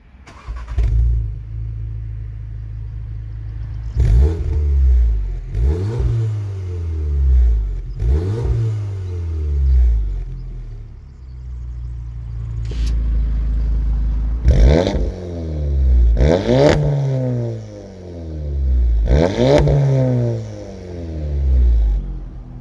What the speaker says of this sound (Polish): najpierw odpalimy sobie ten samochód i posłuchamy, jak on w zasadzie chodzi